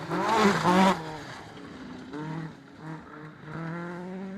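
A historic rally car is on a special stage, its engine loud and close at first with revving and gear changes, then easing into a steadier drone as it moves on.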